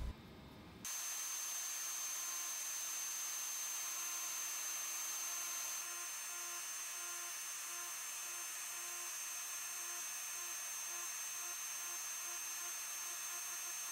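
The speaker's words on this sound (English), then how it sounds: "starting the texturing process with a cylinder stone bit" A cylinder stone bit on a power carver textures the feathers of a wooden chickadee carving, a steady high-pitched motor whine that switches on abruptly and runs unbroken, close and continuous.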